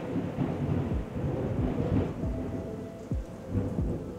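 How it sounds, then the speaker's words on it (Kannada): Heavy rain pours steadily while thunder rumbles repeatedly in deep rolling bursts, loud and continuous with no talk. "ವಾವ್, ಸಾಲಾಗಿ ಮಳೆ ಬರ್ತದೆ."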